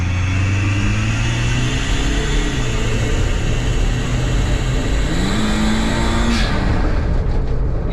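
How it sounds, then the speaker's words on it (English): A car engine revs and pulls hard as the driver floors it down a city block, rising in pitch through gears with a shift around six seconds; loud, close, continuous engine drone with no talking. "I'm gonna gun it down this block fully and see how it does."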